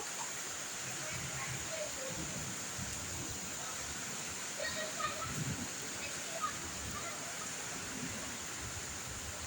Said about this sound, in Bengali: বৃষ্টির রিমিঝিমি শব্দ ভালো লাগতেছে কিন্তু